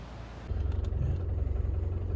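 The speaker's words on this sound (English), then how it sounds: "Got it started, got it going on here. Got a little diesel hum to it" Low, rhythmic diesel engine rumble of a 1995 Range Rover County that kicks in and settles into a steady throbbing idle, close by and fairly loud.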